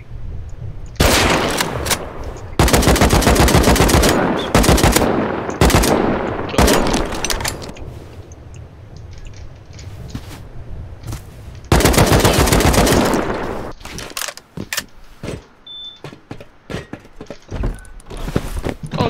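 AK rifle fire in a video game: loud, close bursts of rapid automatic shots in several long strings, separated by brief lulls and scattered single cracks.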